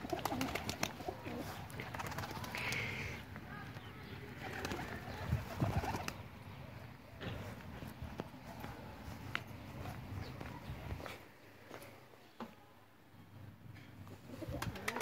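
Pigeons cooing nearby in soft, repeated low calls over a steady outdoor background, with occasional rustles and faint steps.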